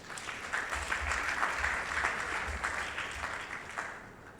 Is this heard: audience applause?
yes